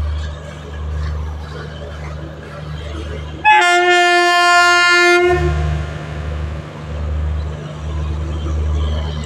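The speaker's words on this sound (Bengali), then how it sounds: "গাজিয়াবাদের ওয়েভ 7 ইঞ্জিন" Ghaziabad-shed WAP7 electric locomotive hauling the North East Express sounds a loud, sustained two-second horn blast near the line, with heavy low rumble of passing rail cars before and after.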